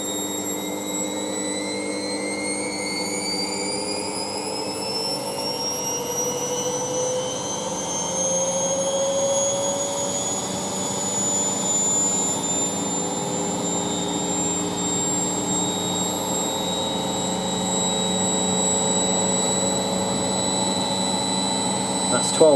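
An Ariston Margherita A1635 washing machine spins at 1200 RPM on a 60ºC fast coloureds programme, a loud, steady, smooth whirring whine with tones that slowly rise as the drum holds speed, close and continuous throughout.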